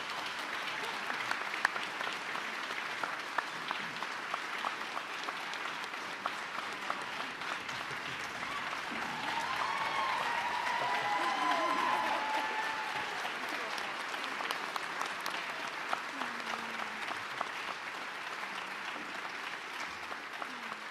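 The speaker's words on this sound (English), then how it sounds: "big round of applause for Travis Perry" Sustained audience applause at a high school basketball player's college announcement for the Lyon County Lyons, dense clapping that fills the room, swelling mid-way with a few cheers and faint voices before gradually easing.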